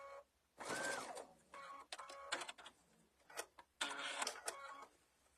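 A sewing machine stitches a fabric mug bag in short bursts of rapid mechanical whirring, stopping and starting several times at close range with quiet pauses in between.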